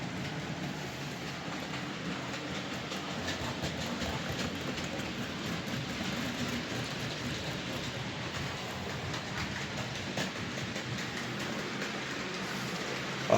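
A Heljan class 33 model locomotive runs around a model railway layout, giving a steady, faint rumble and rattle of wheels on track that continues evenly without talk.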